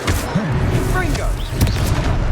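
Confringo fire spell blasts in Hogwarts Legacy, a couple of booming impacts with crackle amid game effects and a voice calling out.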